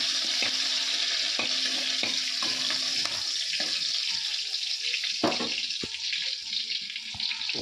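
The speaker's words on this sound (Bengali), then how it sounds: "আমি তেলের মধ্যে রসুন দিয়ে দিলাম" Garlic dropped into hot oil fries with a steady, loud sizzle that carries through, with several sharp clinks and scrapes of a utensil against the pan over it.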